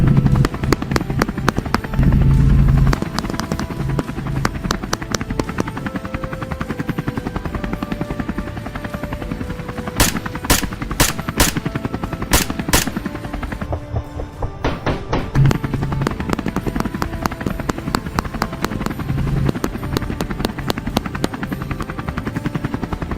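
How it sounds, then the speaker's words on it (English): A helicopter circles overhead during a wild boar hunt, its rotor drone loud and steady throughout, with sharp cracking bursts like gunshots cutting through around the middle. "The helicopter continued to circle,"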